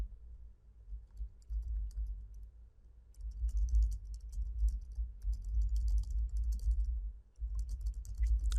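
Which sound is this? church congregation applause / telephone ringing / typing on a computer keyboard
typing on a computer keyboard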